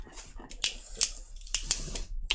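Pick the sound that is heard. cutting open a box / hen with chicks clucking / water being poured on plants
cutting open a box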